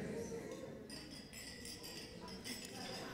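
Glasses clink together in a toast at a women's dinner, a few bright chimes scattered over the murmur of a crowded room with people talking.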